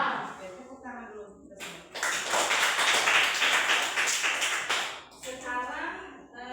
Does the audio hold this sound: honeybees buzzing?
no